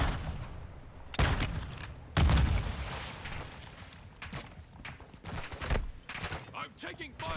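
Video game combat with a grenade blast and gunfire: sharp, loud shots and bursts scattered irregularly over steady background noise, with a brief voice near the end.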